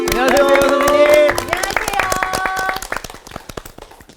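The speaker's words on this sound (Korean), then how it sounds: "오늘은 여러분들의 박수를 기꺼이 받겠습니다." An audience at a Bible study lecture on Genesis claps in sharp, closely spaced strokes under loud voices and sustained tones, the clapping gradually thinning and trailing off into a few last claps.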